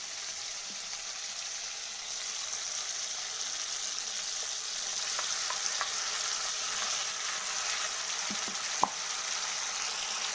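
Onion and garlic paste fries in a pan for a paneer masala curry, giving a steady, continuous sizzle at moderate level with a few faint clinks, no voices.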